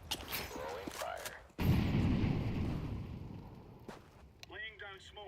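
An incendiary grenade bursts into flame in Counter-Strike 2, a sudden loud whoosh that sustains a crackling roar and slowly fades, with short clicks and a brief voice before and after.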